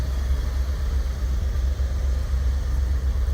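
A 1985 Rolls Royce Silver Spur idling outdoors, a low, steady, even engine hum with a faint airy hiss on top, continuous and unbroken, with no voices.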